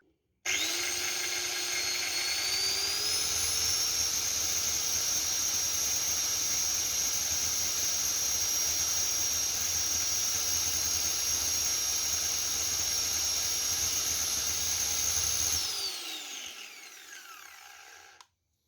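A used Maktec MT90 angle grinder spins up with a rising whine, runs at a steady high-pitched scream for about fifteen seconds during a speed test, then winds down as it is switched off, loud and close with no talking.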